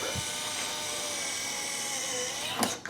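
A motorized retractable license plate motor running by remote, a steady high electric whine lasting a few seconds and then stopping with a small clunk, close and clear.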